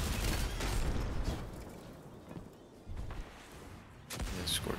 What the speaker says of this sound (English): Yeah, Scorch Cannon, boy.